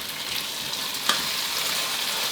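Tomato spaghetti sauce with oregano stir-frying in a pan, a dense continuous sizzle with a single sharp clink of a utensil partway through.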